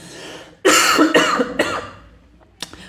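A person coughs in a burst of harsh, loud coughs up close, followed by a pause and one or two short final coughs.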